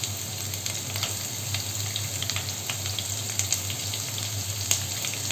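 Sliced onion frying with ivy gourd in a pan for a Kerala stir-fry, a steady close sizzle with faint scattered crackles and light stirring, alone without talk.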